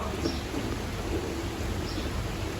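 Steady heavy rain hisses throughout, with a low rumble of thunder rolling underneath.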